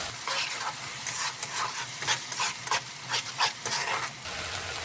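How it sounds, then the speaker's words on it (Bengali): Egg-matar curry is stirred in a frying pan, with scraping strokes of the spoon in an uneven rhythm over a continuous, close sizzle. "এটাকে মিশিয়ে নিচ্ছি।"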